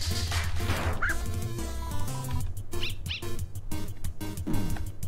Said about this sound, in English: Lesser dog appears.